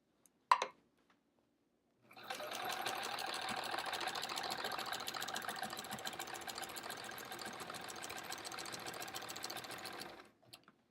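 A sewing machine stitches a row of a sampler quilt, running steadily for about eight seconds with a fine rapid patter, alone after a brief click at the start.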